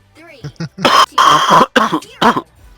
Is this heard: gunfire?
no